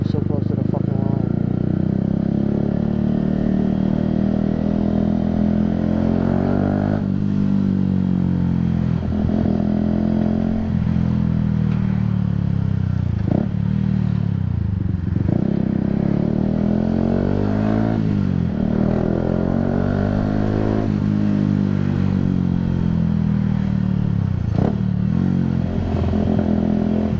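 Motorcycles on a UK road: a steady, loud engine drone with rising and falling revs as the bikes accelerate and ease off, continuous for the whole stretch, with a voice talking over it.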